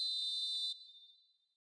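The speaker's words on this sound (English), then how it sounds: "And the whistle's gone, presumably for offside." Referee whistle in a football video game, one sharp, steady, high blast lasting under a second, then a fading echo.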